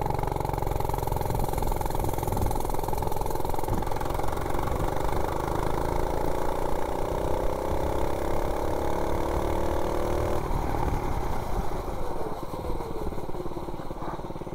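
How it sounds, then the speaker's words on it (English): A 98cc mini bike engine with its governor removed and timing advanced revs hard and loud under acceleration, a steady climbing drone that rises in pitch for about ten seconds, then eases off. "So 0 to 30, 98cc with governor removed and timing advanced."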